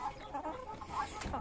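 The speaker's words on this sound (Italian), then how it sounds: "Qua ho pochissima roba, forse ho il gallo, il Lackenfelder, eccolo qua, poi ho Zorro" Hens and a Lakenfelder rooster cluck softly in a chicken coop, a low, continuous murmur of clucking with a faint rustle near the end.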